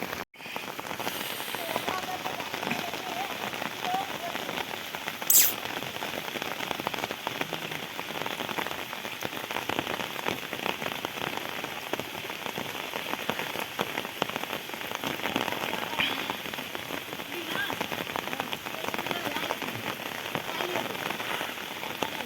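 Heavy monsoon rain on farmland pours down steadily, a dense continuous hiss of drops drumming on surfaces throughout.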